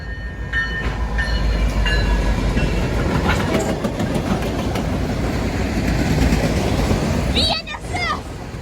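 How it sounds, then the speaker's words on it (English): BNSF freight train hauled by three locomotives rolls past at close range in a steady heavy rumble with wheel clatter, and people talk over it throughout. "There's 3 engines. It looks like there's an orange. There's a BNSF."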